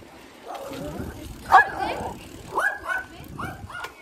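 A dog barks and yips in a few short, close bursts, with softer whimpering sounds between them, over faint background noise.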